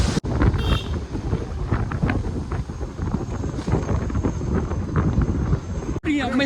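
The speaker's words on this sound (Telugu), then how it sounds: "ఫుల్ గాలి వచ్చేస్తుంది" Strong gusting wind batters a slowed motorbike on a village road, making a loud, continuous roar against the microphone that cuts out briefly near the start and again near the end.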